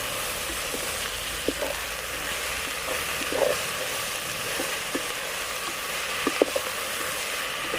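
Ginger garlic paste frying in a pan for Kerala chicken biryani, a steady hiss of sizzling with occasional sharp taps and scrapes of a spoon stirring, close and continuous.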